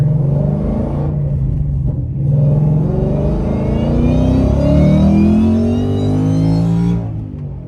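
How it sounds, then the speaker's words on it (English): A Ford Mustang fitted with a ROUSH Phase 2 supercharger and a Foster's Stage 4 whine kit revs hard, a loud close engine roar climbing in pitch with a rising supercharger whine layered over it, held steadily before easing off. "I had a 2012 with the ROUSH supercharger, but we're gonna see how that sounds"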